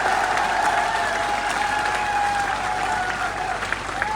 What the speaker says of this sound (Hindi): एक बार जोरदार ताली बजा के आदरणीय दीपेंद्र हुड्डा साहब का स्वागत करें